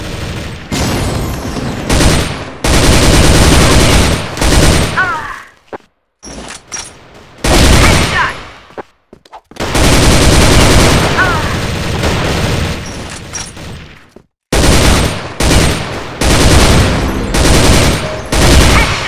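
Dense bursts of FN M249 Minimi machine gun fire in the Crossfire shooter game, loud and close, broken by brief gaps with background game music and effects between volleys.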